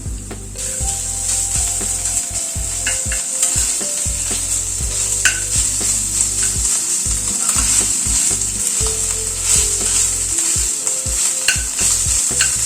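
Ginger paste and grated coconut frying in a pan: a loud, steady sizzle with constant scraping and rubbing of a spatula, heard close up and without voices.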